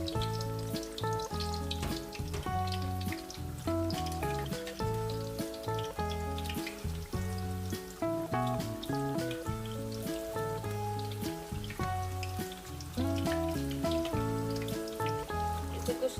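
Eggplant slices dipped in batter fry in hot oil, a steady soft sizzle running under loud tonal background music for the whole stretch.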